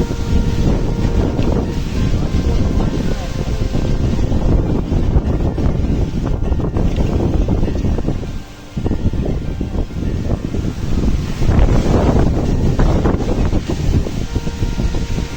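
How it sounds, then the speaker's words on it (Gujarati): Strong, gusty pre-storm wind roars across an open area near Morbi, Gujarat, buffeting the microphone continuously for the whole stretch with only a brief lull midway, loud and rumbling with no talk. "પવન ભાઈ જોરદાર છે અત્યારે તો"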